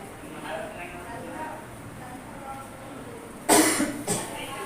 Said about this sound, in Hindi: खांसी आने लगे